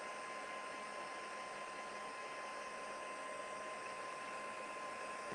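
A hair dryer on its low setting blows over wet tissue paper watercolor, a steady broadband whoosh with a faint constant whine, holding even and unbroken throughout at moderate-low volume.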